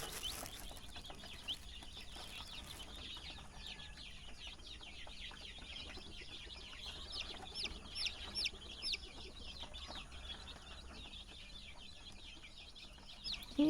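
Chicks peeping steadily, a dense chatter of small high calls carrying on throughout at moderate distance, fairly faint over a soft background hiss.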